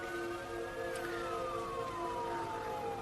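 An ambulance siren in an action film wails, rising and then slowly falling in pitch, heard from a distance under steady background hum.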